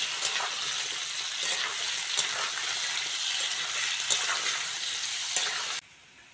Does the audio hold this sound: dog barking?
no